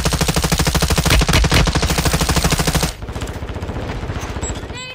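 Rapid, loud automatic gunfire from Warzone 2 rattles continuously in tight bursts, then shifts to a slightly softer, steady stream of shots near the end.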